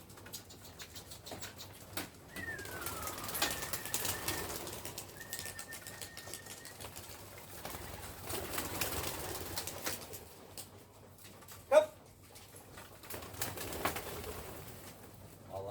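Young racing pigeons leave their loft, with soft wing flaps, faint cooing and light pattering of feet at a distance, a sharper flutter burst near the end, no talking.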